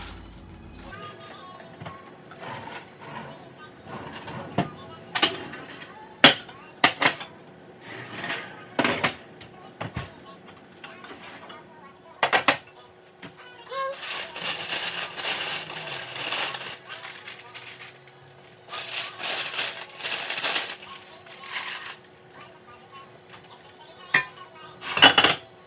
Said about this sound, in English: put the lid back on the pot and pop it back into the oven